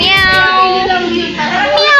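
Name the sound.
child imitating a cat meowing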